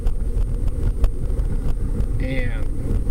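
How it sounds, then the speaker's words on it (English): Inside a Volvo rolling on old tires, a loud, steady low rumble of road noise fills the cabin with a wind-like roar and a brief faint chirp. "you're going to have a little more road noise than what you would typically have in a Volvo"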